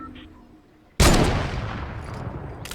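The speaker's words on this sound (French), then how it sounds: "Donc là, je tire dans la grange." A single loud sniper rifle shot fired into a barn in a shooter video game, a sudden sharp blast followed by a long decaying rumble and a faint later click.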